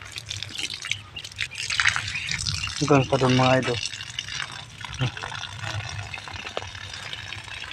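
Water splashes and pours in short gushes onto garden vegetable plants while someone talks over it outdoors.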